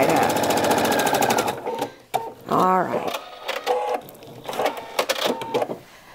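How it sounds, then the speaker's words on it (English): A domestic sewing machine runs in quick rhythmic bursts while stitching a fabric seam, loud and close, with short pauses between runs and speech over parts of it. "So I'm just going to go ahead and stitch this side up"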